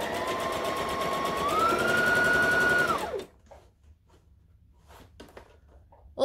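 Simplicity 1801 sewing machine stitching through fabric, a steady close mechanical whir with a rising motor pitch that runs for about three seconds, then stops abruptly, leaving quiet room noise with a few faint clicks and rustles.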